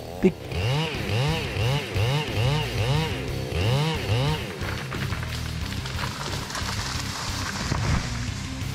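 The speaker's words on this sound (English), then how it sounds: "they are sawing down a giant singan tree" A chainsaw cutting down a giant singan tree, its engine revving and dipping in a regular surging rhythm, loud and close, then settling into a rougher steady run as the cut continues.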